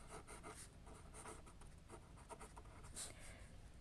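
A pen scratches out a maths solution on paper in short, faint, intermittent strokes, close by, with no speech over it.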